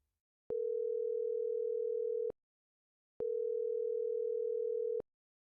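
A telephone line tone sounds while a call is dialed, two long steady beeps of about two seconds each separated by a short silence, clear and alone.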